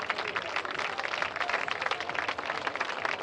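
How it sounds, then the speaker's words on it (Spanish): Crowd applause for race walking athletes at an international race-walk grand prix podium ceremony in A Coruña, heard as a dense, steady wash of clapping and cheering that holds throughout, loud and close. "Damos un fortísimo aplauso a estos atletas."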